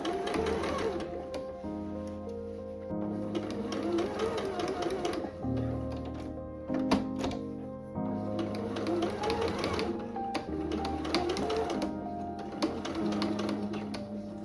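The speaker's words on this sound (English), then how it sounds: "here I'm sewing the skirt onto the bodice, just making sure that the gathering is even throughout this whole seam" A sewing machine sews a gathered skirt onto the bodice of a vintage Vogue V9076 dress in several bursts of rapid stitching separated by brief pauses, close and clear, with soft music underneath.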